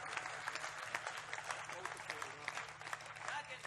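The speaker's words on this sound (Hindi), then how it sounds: "तालियां और घनीभूत करनी पड़ेंगी आपको।" An audience at a spoken religious discourse about Bhishma breaks into applause, a continuous patter of many hands clapping with some rises in loudness.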